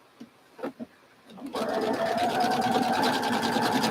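A sewing machine stitches quilt fabric with a quarter-inch seam, starting after a few soft handling sounds and then running in a steady, close, rapid mechanical whir.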